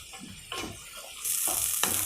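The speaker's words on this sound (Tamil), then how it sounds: "நல்லா சுருள வதங்கணும்" Ground paste of garlic and ginger frying in a pan while cooking a paneer ghee roast, with a steady sizzle and hiss that swells louder partway through, plus a few soft stirring scrapes.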